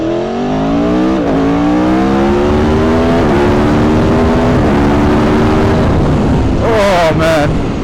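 A 2018 Aprilia Tuono V4 1100 Factory motorcycle's V4 engine revs hard and loud up close, pitch climbing in repeated sweeping bursts with brief drops between throttle blips, then a final sharp rising rev.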